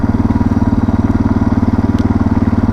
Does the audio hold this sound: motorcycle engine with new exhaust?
yes